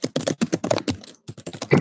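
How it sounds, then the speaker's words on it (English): Rapid, dense keyboard typing clatters close by in quick rhythmic bursts with a short pause partway through, loud and continuous. "Intense typing."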